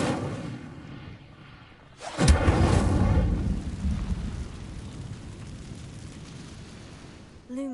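Incendio fire spell cast in the game Hogwarts Legacy: a sudden loud whooshing burst of flame that roars, then fades slowly into a lingering rumble, heard close and alone.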